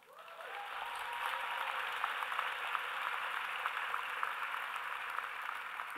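Sustained audience applause fills a commencement ceremony hall, a dense steady wash of many hands clapping that swells in quickly and holds at full strength with no voices over it.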